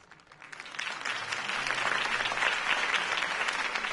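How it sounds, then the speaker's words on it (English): Crowd applause at a political campaign rally in Batman: The Telltale Series, swelling up from quiet and holding as a dense, even clapping wash for several seconds. "If only Mr. Wayne, my campaign's largest backer, could have heard that applause"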